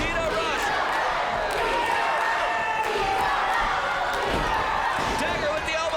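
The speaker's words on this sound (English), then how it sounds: "The fans yelling for KETA, cheering her on." Women's wrestling fans yell and cheer for KETA Rush in a continuous wash of crowd noise, steady and moderately loud throughout.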